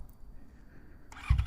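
A quiet hum, then a Yamaha XJ6 motorcycle engine catches near the end and settles into a low, steady idle.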